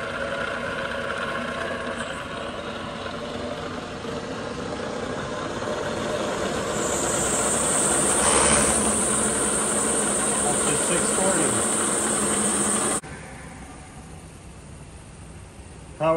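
A 1-1/2 HP Excello ram-type vertical mill runs in low range at 100 RPM, giving a steady mechanical hum and whir that builds slightly midway and then drops to a quieter tone near the end, with no talking.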